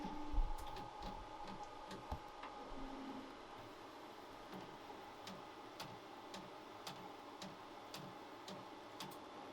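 A Ricoh printer printing onto shirts runs as a steady mechanical hum with regular ticking clicks, moderately quiet and continuous with no talk.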